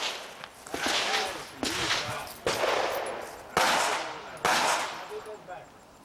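Five sharp pistol shots at an IDPA shooting match crack out loud and close, spaced roughly a second apart, each followed by a brief echoing decay.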